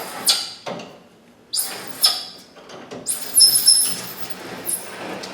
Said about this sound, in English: just want to give you a visual of this window going up and down in this door